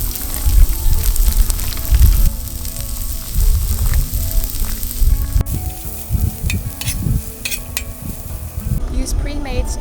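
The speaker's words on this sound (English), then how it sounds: "Start up by heating up the pepperoni. Caramelize the onions." Pepperoni and onions sizzle and fry in a pan over an outdoor cooking setup, a steady loud crackle with occasional clinks of utensils and a few faint background sounds.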